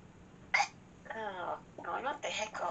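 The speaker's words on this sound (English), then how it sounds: "Oh, no, not the hiccups." Several short, sharp hiccups pop out in quick succession, each a brief voiced catch, scattered between bits of nearby voice with faint game music or room tone beneath.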